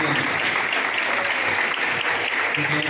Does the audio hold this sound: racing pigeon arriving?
no